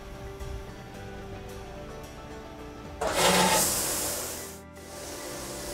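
A photopolymer plate washout unit runs its wash cycle as a steady mechanical hum with faint ticking, then breaks into a louder rush of spraying liquid that fades back down to the running hum.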